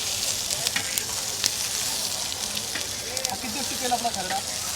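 Green chilies sizzling in oil in a pan for Maharashtrian kharda, a continuous close frying hiss with small crackles and a spoon stirring, a voice murmuring faintly beneath.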